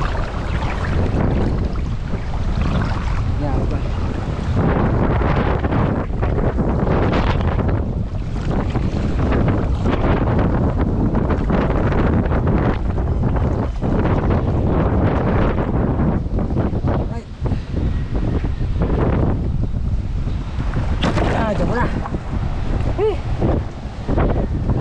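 Strong typhoon wind battering the microphone near a river with boats, a loud, continuous roaring rush with gusting surges and water noise beneath, steady for the whole stretch.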